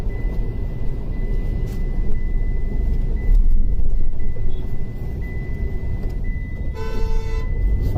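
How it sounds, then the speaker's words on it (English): Jammed city traffic on a busy Bangalore road: a constant low engine rumble from surrounding cars with a clear car horn toot near the end, continuous and fairly loud with no talking. "we are in the busy roads of Bangalore"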